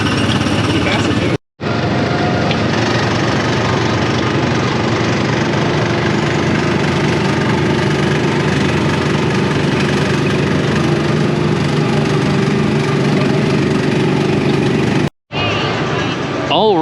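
Small gas engine of a Tomorrowland Speedway ride car at Magic Kingdom, a steady loud buzzing drone running continuously with two brief cutouts, with voices in the background.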